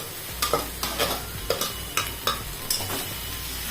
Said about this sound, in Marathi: आता आपण हे बटाट्याचे काप टाकून द्यायचे